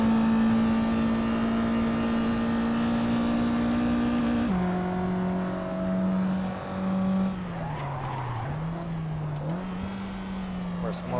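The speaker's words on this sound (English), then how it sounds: "I need to blip the car on downshifts" Small race car engine in a racing video game, held at a steady drone then dropping in pitch with short throttle blips on downshifts while braking into a corner, with a voice talking over it.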